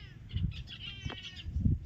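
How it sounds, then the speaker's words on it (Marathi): Short bright sparrow chirps come in a few quick bursts against low background rumble, close and moderately loud. "चिमण्या छान वाटतात आमच्या घरी खूप चिमण्या आहेत"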